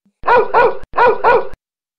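A dog in an animated comedy series gives two loud, close barks in quick succession, with silence before and after.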